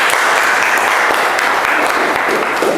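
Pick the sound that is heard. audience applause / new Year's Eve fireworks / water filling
audience applause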